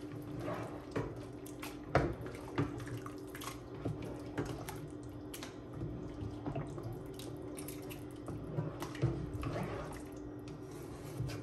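Mixed vegetables and rice stirred in a cooking pot, giving soft wet squishing and sloshing with small clinks, steady and close, with no talking.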